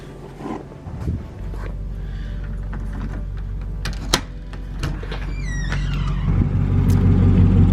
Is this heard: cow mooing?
no